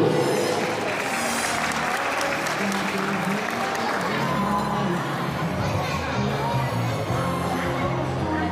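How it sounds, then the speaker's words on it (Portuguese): An audience at a municipal celebration in São Sebastião do Umbuzeiro gives dense, sustained applause at an even level throughout, with a murmur of crowd voices mixed into the clapping. "Recebamos com aplauso"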